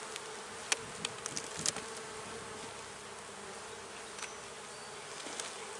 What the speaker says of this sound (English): Only a small cluster of bees is alive here.